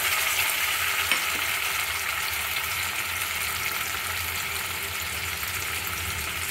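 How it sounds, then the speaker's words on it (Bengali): Ground poppy seed paste frying in hot oil for a Bengali okra dish, a loud, continuous close sizzle with a single faint clink early on and no voices. "তেলটা গরম হয়ে গেছে। এই তেলে আমি বেটে রাখা পোস্তটা"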